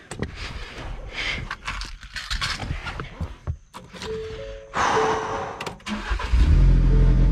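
A 2019 Ford Ranger, just fitted with a new alternator, cranks and catches, its engine rising to a loud, steady near idle after a few seconds of clatter and handling noise.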